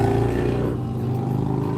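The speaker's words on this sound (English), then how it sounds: "Motorcycle, you heard that." A motorcycle engine drones loudly and steadily nearby as it passes, its rough low rumble easing slightly toward the end of the short stretch.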